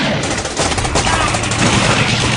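Gunfire from a battle scene involving tanks in an Indian war film: a dense, continuous, loud roar of shots with no gaps, voices faint beneath it.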